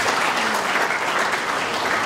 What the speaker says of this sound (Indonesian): Tepuk tangan dulu untuk ini.